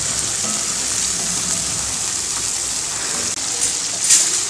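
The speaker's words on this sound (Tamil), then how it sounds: "தக்காளி மசிற வரைக்கும் வதக்கலாம்." Tomatoes sautéing in a pan for mushroom kurma, giving a steady, loud hiss of frying that holds even throughout, with a faint clink near the end.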